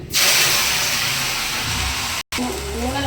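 Ingredients for tomato chutney deep frying in hot oil, a steady loud sizzling hiss filling the clip, broken by a brief silent gap near the end.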